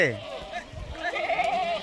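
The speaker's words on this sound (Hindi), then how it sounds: "ये देखें माशाल्लाह जितने बकरे नज़र आ रहे हैं ना, एक से बढ़कर एक नज़र आ रहे हैं" Rajanpuri goats bleat at a crowded goat farm in Dera Ghazi Khan, one wavering bleat standing out close by while someone talks over the herd.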